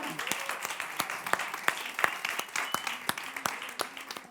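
An audience at a neighbourhood community magazine event at the Ateneu de Nou Barris in Carmel gives steady, crisp applause, the individual claps distinct and evenly spread throughout.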